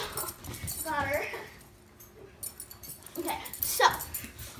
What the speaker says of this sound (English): so this is my dog Layla